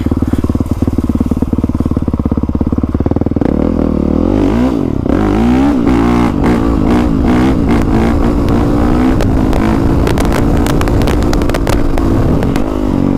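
A 2020 Honda CRF450R dirt bike being ridden hard, its engine revving and surging continuously at close range with clattering, wheel-spinning bursts throughout.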